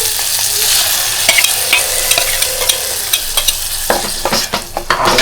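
Wet coconut, green chilli, coriander and garam masala paste being stirred into cashew curry frying in a pan, Kokan style. A steady close sizzle runs throughout, with scraping stir strokes and clicks rising near the end; no one speaks.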